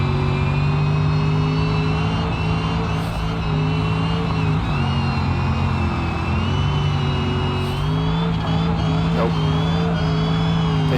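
A car in BeamNG.drive launches off the line, its simulated engine holding a loud, steady strained drone with wavering pitch and faint tire noise throughout.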